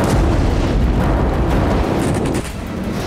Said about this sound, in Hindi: उत्तर कोरिया की तरफ से तनातन गोले दागे गए